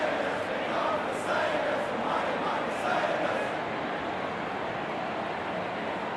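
Stadium crowd roaring and cheering during a St Kilda Saints versus West Coast Eagles match in AFL Evolution 2, a dense, steady wash of noise that swells slightly, heard under commentary voices.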